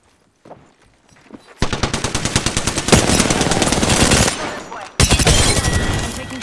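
Automatic weapon fire in Apex Legends, long sustained bursts of rapid shots ringing out loud and close, briefly cutting off before another burst resumes, with a voice heard faintly early on.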